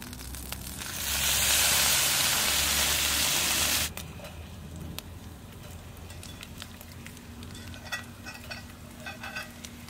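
Bacon frying in a Dutch oven on a Firebox camp cooker at a bushcraft cookout: a loud, dense sizzle that swells for a few seconds, then drops to a softer steady crackle with faint clinks.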